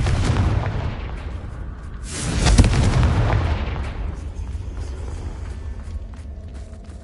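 Confringo fire spell blast in the Hogwarts Legacy video game on PS4, a loud booming explosion swelling mid-clip over a dense rumbling backdrop of game effects that fades into lingering crackle.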